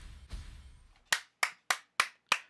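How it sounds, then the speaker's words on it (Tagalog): Five sharp hand claps in a steady rhythm, close and loud, following a brief stretch of low rumbling noise at a gaming stream. "Palakpak agad?"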